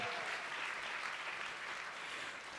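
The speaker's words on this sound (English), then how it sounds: "Let's give them a round of applause for that." Donors get a crowd's steady round of applause, many hands clapping in a dense wash that starts full and eases off slightly toward the end, with no talk over it.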